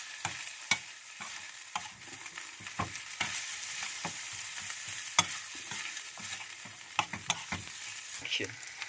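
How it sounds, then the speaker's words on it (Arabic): Onions frying in a pan with nagresco as it is stirred, giving a steady sizzle broken by frequent scraping clicks of the spoon, with no voices. "هننزل اهوت بشويه بصل على النجرسكو اهو. نقلب زي ما انتم شايفين"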